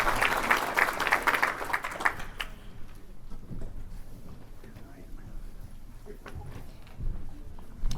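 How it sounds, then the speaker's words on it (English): A conference audience applauds its panelists in a strong burst for the first couple of seconds, then the clapping fades into room murmur and scattered voices. "If we could just get another round of applause for everyone"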